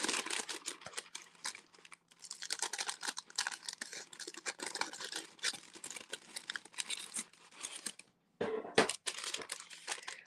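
Crisp crinkling and snipping as scissors cut a plastic packaging bag, steady and close, with a brief pause before a few sharper cuts near the end.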